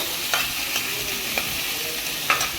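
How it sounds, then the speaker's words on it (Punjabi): A steady sizzle of whole spices dry-roasting in a hot pan over a medium gas flame, with a few light scraping stirs at irregular moments. "ਚੰਗੀ ਤਰ੍ਹਾਂ ਆਪਾਂ ਭੁੰਨ ਲੈਂਦੇ ਆ"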